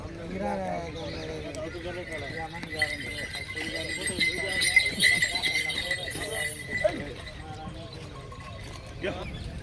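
Bullocks' hooves clop rhythmically as pairs trot at a cattle market, mixed with a crowd's chatter and a voice talking over the scene.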